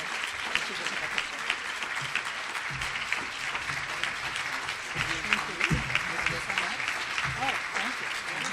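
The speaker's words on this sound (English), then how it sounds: "Oh, they're giving a nice applause." An audience at a conference plenary session claps in a sustained, dense wash of applause, with a few voices chattering over it close by.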